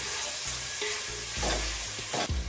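Onions with three medium tomatoes frying in a pan for a home-cooked Kannada meal, a steady close sizzle broken by scraping stirs and a louder burst near the end as more goes in; no talking.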